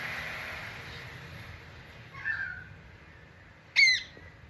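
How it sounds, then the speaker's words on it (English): A currawong calls in a garden: two short, harsh squawks, the second louder and nearer, over a faint steady background hum. "And we can hear the currawongs back."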